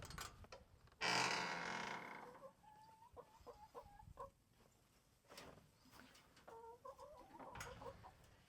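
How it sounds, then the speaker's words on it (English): About five chickens in a pen cluck in short, quiet bursts with a brief louder rustling noise near the start, all fairly close and low in level. "So we got this chicken pen here and some chickens, about 5 of them."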